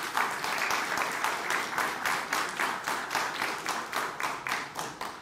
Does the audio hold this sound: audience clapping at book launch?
yes